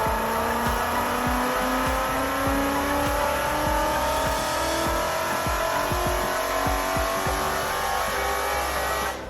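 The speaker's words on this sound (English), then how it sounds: "I have Corsa long tube headers paired to a Corsa Sportback exhaust" A Ford Mustang fitted with Corsa long tube headers and a Corsa Sportback exhaust runs loud and close, its engine note pulsing in a steady rhythm while the pitch slowly climbs as it revs.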